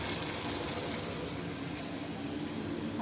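Raw plantain pieces dropped into tomatoes cooking in a pan for a South Indian pulusu, giving a steady, close hiss of sizzling that holds evenly throughout with no talking.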